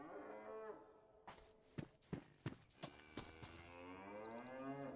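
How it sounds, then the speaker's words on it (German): Long, low cow moos in the video game DayZ, drawn out at the start and end, with a run of sharp knocks and thuds in between. "Das ist eine Kuh, ne?"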